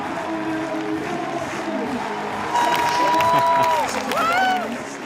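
A crowd cheers and applauds at the IFSC men's bouldering final in Prague, a steady roar of voices and clapping that swells midway, with an announcer's voice running over it.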